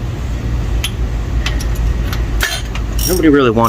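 Ratchet wrench snugging spark plugs into an engine, several quick clicking strokes in short bursts, close and loud, with a brief voice near the end.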